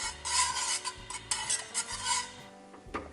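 Béchamel sauce for lasagne being stirred in a pot as it starts to boil, with repeated scraping and rubbing strokes of a utensil against the pan, close and fairly loud, no voices.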